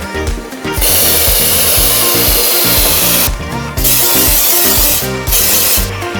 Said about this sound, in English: Your side mechanisms also need to be sprayed. Don't forget to spray the wheel also.